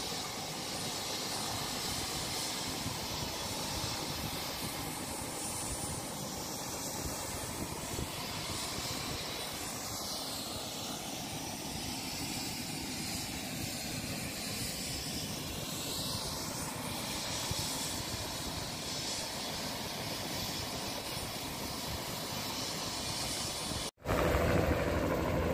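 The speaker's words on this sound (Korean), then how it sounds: "여기는 헬기 계류장인데 헬기 소음이 아주 심합니다." A helicopter at a helipad for a glacier tour in the Canadian Rockies gives a loud, steady engine and rotor roar that runs unbroken for most of the time, then drops out briefly near the end.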